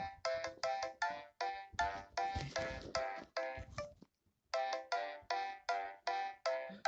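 A Samsung MIDI ringtone sounds a rhythmic run of short, bright synthesized notes, briefly pauses, then repeats the same pattern, playing alone at moderate volume.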